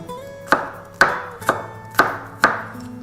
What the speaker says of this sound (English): just thinly slice the garlic, just whole cloves